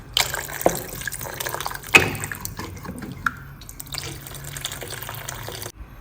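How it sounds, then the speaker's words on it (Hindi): Hot water is poured into a pot of village-style chicken curry to make broth, a running liquid splash with drips and a few clinks of the pot, close and moderately quiet. "अब इसके अंदर हम ये गर्म पानी डाल रहे हैं फॉर शोरबा"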